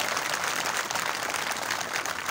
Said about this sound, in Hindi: इनके लिए तालियां बजाकर इनको दाद दें